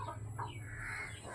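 A fallen baby bird, species unknown, makes faint, thin cheeping calls that rise and fall in quick succession over a low steady background hum, with no voices.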